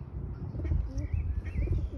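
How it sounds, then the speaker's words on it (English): Pigeons coo softly in a park in Bolton, the low throaty calls repeating a few times amid faint outdoor ambience and a couple of higher chirps, moderately distant and quiet. "In the UK they call them pigeons."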